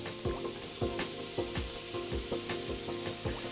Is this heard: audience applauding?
no